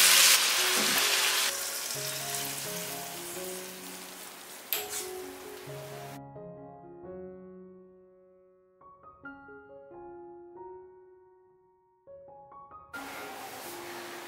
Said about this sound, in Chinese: 再淋上生抽，干煎一会儿，煎到生抽收干就可以出锅了。